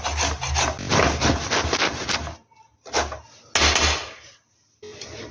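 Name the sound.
grating raw green mango with peel on a grater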